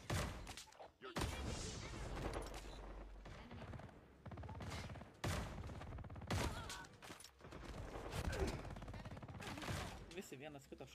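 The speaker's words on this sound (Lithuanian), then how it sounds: "Visi vienas kitą šaudo." Rapid bursts of gunfire from a Call of Duty match on the Alcatraz map, loud repeated volleys and shots crowding one another almost nonstop under a player's voice.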